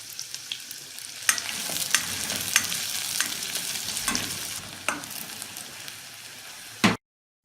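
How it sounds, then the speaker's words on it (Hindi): Oil sizzles steadily in a pan with garlic and onion frying over medium heat, punctuated by occasional clinks and scrapes of a utensil stirring. "एक पैन में तेल गरम करें और फिर इसमें दरमियानी आंच में लहसुन और प्याज डालकर फ्राई करें।"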